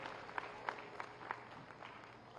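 Scattered applause from a crowd at an outdoor village gathering in Akbelpur, Azamgarh, India, faint and distant, with a few sharper individual claps standing out.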